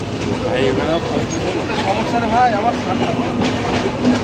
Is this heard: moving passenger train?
yes